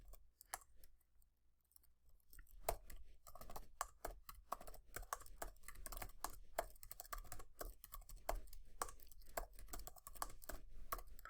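Rapid, continuous clicking of keys as data is typed on a computer keyboard, starting sparse and quiet, then settling into a dense, steady patter close to the microphone with no talking.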